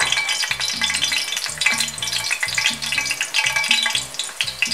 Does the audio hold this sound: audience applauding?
no